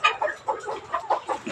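A caged farm chicken drinks from a nipple drinker, giving a quick, evenly spaced run of soft clucking, pecking bursts. The sounds come up close over about a second and a half, and no one speaks.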